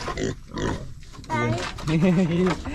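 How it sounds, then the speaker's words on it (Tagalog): A backyard pig in the Philippines gives a few short grunts between stretches of someone talking, the animal sounds close and intermittent. "Saka may baboy din kami alaga"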